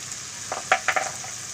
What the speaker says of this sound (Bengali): এই তেলের মধ্যে আমি এক এক করে গুঁড়ো মশলা দিয়ে দেব। ধনে গুঁড়ো, জিরে গুঁড়ো,